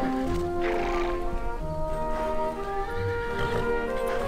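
A horse neighs in the Barbie Riding Club video game, with whinnies over layered game music and hoof clip-clops. Nobody talks.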